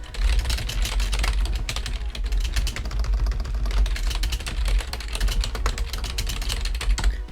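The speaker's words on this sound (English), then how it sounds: "This keyboard is so bad." Rapid, continuous clacking of keys on an IBM mainframe computer keyboard, close and loud, with irregular bursts of keystrokes running the whole time and no talking.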